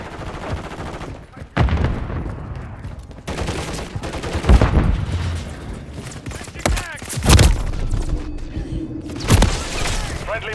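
Call of Duty gunfire on PS5 crashes in loud, irregular bursts and single heavy shots amid explosions and radio chatter, with a spoken voice in the mix.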